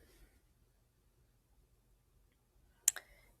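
A single sharp computer mouse click sounds close up near the end, after a stretch of near silence.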